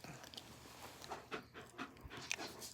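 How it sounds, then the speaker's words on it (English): German Shepherd dogs panting up close indoors, a soft, ragged run of quick breaths with a few louder huffs near the end, no talking over it. "Here's a gratuitous shot of the German Shepherds. Luna, Saul."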